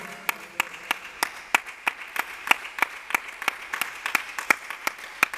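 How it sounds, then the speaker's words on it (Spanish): Applause from a church congregation during a sermon, heard as a steady rhythmic clapping in unison of about three claps per second, crisp and fairly close. "Denle un aplauso al Señor"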